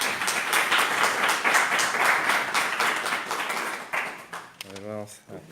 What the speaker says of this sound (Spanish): Es un aplauso, Alfredo.